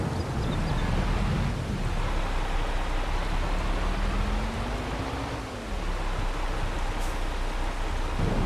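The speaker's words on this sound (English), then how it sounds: "Rain's coming down pretty heavy now." Heavy rain pours down steadily in the Farming Simulator 22 farming game, a dense continuous hiss with a low rumbling undertone throughout, loud and unbroken.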